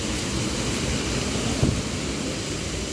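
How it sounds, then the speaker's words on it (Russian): Rushing water from the Khal-Khal waterfall in Oğuz, Azerbaijan roars as a steady, dense broadband wash, heard close and loud without a break. "Вот водопад, подошли с другой стороны, близко."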